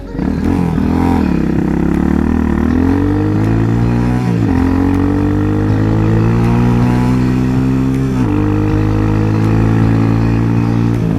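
A Hawk 250 motorcycle with a swapped carburetor and a freshly adjusted idle screw runs close and loud, its engine note rising and settling in a few slow revs before holding a steady, throbbing idle.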